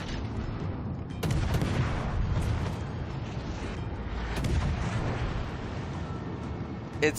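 Heavy naval gunfire from warships in World of Warships Legends, a steady roar of booming salvos with louder surges around the middle and a sharp crack near the end, with no talk over it.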